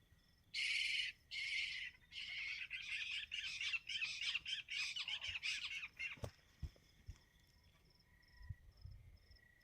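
At night beside a field hut, a bird gives a loud run of harsh, repeated squawks over steady cricket chirping, then falls silent, leaving crickets and a few dull thumps.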